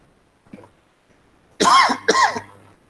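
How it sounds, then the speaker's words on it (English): A speaker who is losing their voice clears their throat twice in quick succession, rough and gravelly, close up after a small preceding grunt. "Give me a chance to clear my throat."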